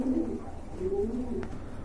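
Net gear pigeons, one pair already laying eggs, coo in low, steady, throaty murmurs that run without a break, close and fairly loud, with no voices.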